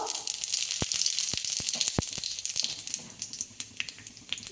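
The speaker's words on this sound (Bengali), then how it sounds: "এই মাছ ভাজা তেলের মধ্যে" Radhuni and black cumin seeds tempering in leftover fish-frying oil for a chanda fish curry: a steady hiss of sizzling with sharp pops and crackles scattered through it, fading somewhat toward the end.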